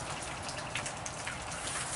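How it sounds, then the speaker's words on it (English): Rain falls steadily outdoors, a dense continuous patter of drops striking surfaces, even and unbroken throughout without voices. "It's raining now."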